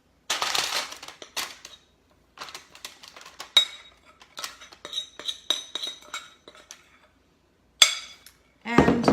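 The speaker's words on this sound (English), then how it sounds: "So first I pack it with the back of my spoon" A spoon taps and scrapes against a pan while packing a nut and seed bar mixture onto parchment, giving irregular bursts of metallic clinks and scraping with short pauses between them.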